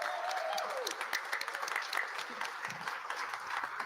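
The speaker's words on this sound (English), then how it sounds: "Let's give them a round of applause." An audience at a graduation commencement applauds, dense steady clapping filling the room, with a brief voice at the start.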